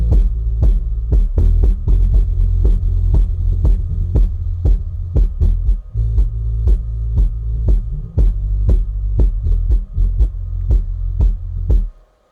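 A NEXO L18 subwoofer plays a test signal as a loud, steady low-frequency throb, punctuated by sharp, rhythmic thumps every half second or so for about twelve seconds before cutting off abruptly.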